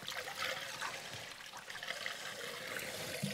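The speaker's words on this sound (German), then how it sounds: "jetzt läuft das Wasser da unten raus" Water runs steadily out of the drain of a homemade wooden fountain trough in a forest setting, a continuous close trickling and gurgling with no voices.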